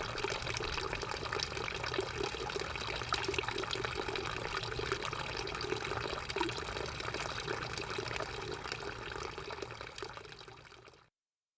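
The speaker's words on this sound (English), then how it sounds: "Or how a fountain splashes." A fountain splashes continuously, a dense, even rush of falling water that holds steady throughout before cutting off, with no voices.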